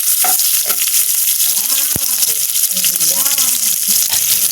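Onion drops into frying sambal with a loud constant sizzle, while a utensil stirs and scrapes the pan in quick strokes, a few faint pitched squeaks over the hiss, close and without talk.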